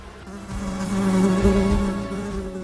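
A swarm of bees buzzing inside the carcass of a lion, a steady, dense droning hum that stays fairly loud and continuous throughout, swelling slightly in the middle.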